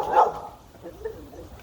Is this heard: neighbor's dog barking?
yes